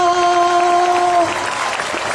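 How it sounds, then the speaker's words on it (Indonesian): Congregation clapping at a church revival service in Sibolga, a dense steady wash of applause with a sustained tone holding underneath for the first second or so before the clapping carries on alone. "Lebih kuat tepuk tangannya."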